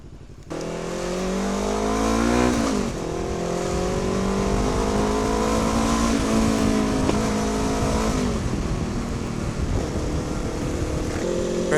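A Bristol Venturi 500 adventure motorcycle accelerating after a fresh oil change, close and loud, its engine note climbing through rising revs, dropping at gear shifts, then climbing again in a strong sustained pull.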